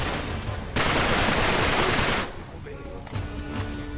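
Gunfire in Uncharted 3 Remastered on PS4 in a French chateau: a dense, loud burst of automatic shots for about a second and a half, then quieter scattered fire and game noise.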